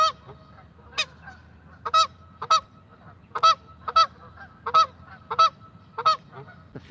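Loud, close goose honks at a carp fishing spot come in a steady series of about a dozen repeated calls, some in quick pairs, over low outdoor background noise.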